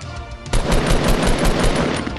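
Rapid automatic gunfire from a Fortnite Battle Royale match, loud and close, a sustained burst of dense shots following a brief quieter moment, with no talking.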